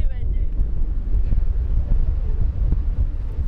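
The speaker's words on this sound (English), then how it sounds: "It's a little bit windy. It's really windy." Strong gusts sweep across a Lake District tarn, buffeting the microphone with a loud, constant low roar that surges and dips without pause.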